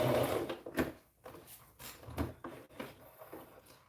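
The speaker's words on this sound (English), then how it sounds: "Make sure to back stitch." A home sewing machine back stitches on small preemie shorts and a hat: short bursts of fast, close mechanical whirring that stop and restart several times.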